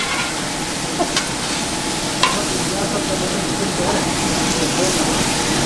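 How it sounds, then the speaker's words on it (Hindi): Whole chopped tomatoes stirred hard in a sizzling kadai in a busy barbecue restaurant kitchen in Jeddah, a loud dense frying hiss with scraping stir clatter and occasional knocks throughout. "अब ये चलाएंगे इसको ज़बरदस्त करके, मेरा फेवरेट काम"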